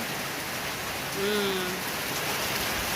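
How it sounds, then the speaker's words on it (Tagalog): Rain falls steadily outside, giving an even, constant hiss with no breaks, and a brief tonal sound rises over it midway. "Salamat, umulan."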